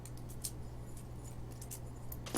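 Two keys for a Yale 197 1/4 lock jangle lightly, a faint metallic clinking over a low steady hum, with a brighter jingle at the end.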